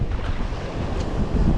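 Wind blowing hard at sea on a fishing boat, a steady, loud rush buffeting the microphone with the wash of waves beneath.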